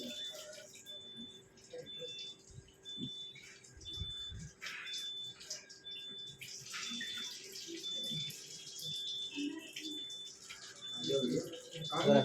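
Water runs steadily from a Kangen water machine in an office, a soft continuous trickle with faint clinks and a thin electronic tone beneath it.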